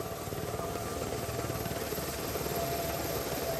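A helicopter's steady rotor thump and engine whine drone continuously at moderate distance in Afghanistan, with no voices.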